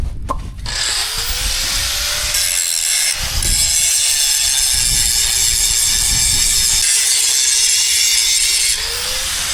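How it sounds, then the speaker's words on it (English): An angle grinder works a steel tube for a buggy frame, producing a loud, continuous high-pitched grinding whine with slight shifts in pitch as the disc bites, running alone without speech. "the proper way to grind tube is this way"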